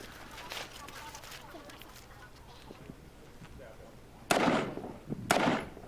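Gunshots at a precision rifle shooting competition: two sharp, loud reports about a second apart near the end, after a stretch of quieter shuffling and movement noise.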